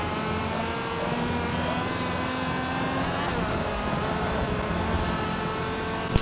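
A BMW race car in a racing video game roars throughout at a steady high-revving pitch, loud and continuous, with no voices and a faint click at the very end.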